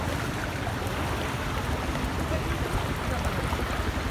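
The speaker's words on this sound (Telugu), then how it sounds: "మొత్తం ఫుల్ వాటర్ వచ్చేసినాయి రోడ్డు మీద" Floodwater rushes over a road during nonstop heavy rain, a steady, loud broadband wash of flowing water with no pauses from start to finish.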